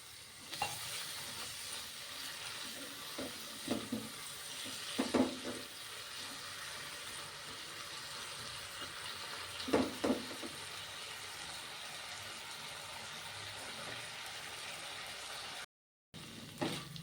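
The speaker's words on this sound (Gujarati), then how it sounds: "તો આપણે આમાં થોડુંક પાણી એડ કરશું" Potatoes for cumin-spiced aloo frying in a pan with a little water added, giving a steady soft sizzle with occasional stirring scrapes and clinks, no talking.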